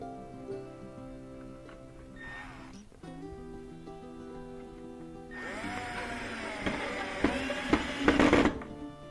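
Power drill driving long screws into chicken coop kit panels: a whirring motor rises in pitch and strains for a few seconds near the end, over a steady humming background.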